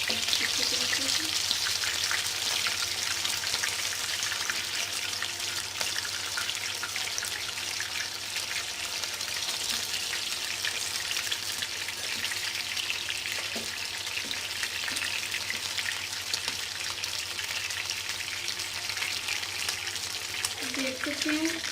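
Chicken pieces fry in a pan with a soft, steady crackle and fine popping, fairly quiet and unbroken, with faint voice traces now and then.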